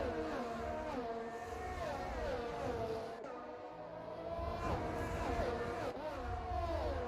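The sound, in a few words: Formula racing cars from a video game race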